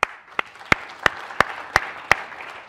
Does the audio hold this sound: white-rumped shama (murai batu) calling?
no